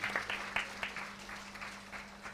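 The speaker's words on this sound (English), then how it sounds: "Let's all give them a big round of applause for that display of musical creativity." Applause after a singing and beatboxing performance, scattered, fairly faint clapping from a small audience with a steady electrical hum underneath.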